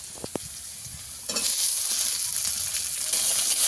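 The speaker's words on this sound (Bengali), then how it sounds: "এবার ঢেঁড়সগুলো দিয়ে দেব।" A few light clicks, then okra hits hot oil with lightly fried neem flowers and a loud sizzle erupts, continuing as a steady, crackling fry.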